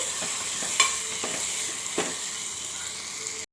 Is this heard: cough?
no